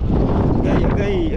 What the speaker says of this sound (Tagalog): Naglakas na yung hangin.